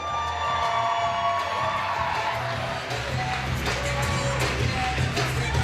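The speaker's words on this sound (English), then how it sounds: "Can I get another big round of applause for Trent Schmidt, escorted by Kayla Kenton?" Applause and cheering for the wedding party at a reception, a crowd clapping steadily with whoops and lively chatter underneath throughout.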